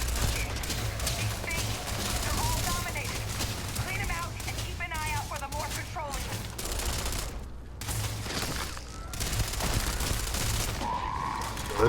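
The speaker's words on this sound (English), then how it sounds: "This assault rifle actually does decent damage." Assault rifle fire in a shooter game, bursts of sharp gunshots repeating through the scene, mixed with game voices and other in-game effects.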